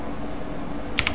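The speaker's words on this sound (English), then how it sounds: "and I'm going to type in" A couple of quick keystrokes on a computer keyboard near the end, close and crisp over a quiet room background.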